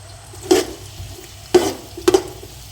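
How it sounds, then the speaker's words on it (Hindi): Three medium chopped onions cook in a pot for chana pulao, giving a soft low sizzle broken by three distinct scraping stirs of a spoon against the pot, close and without talk. "ये 3 प्याज हैं और ये मीडियम साइज़ का प्याज था, तो ये मैंने डाल दिया और इसको अच्छे से हमने पकाना है।"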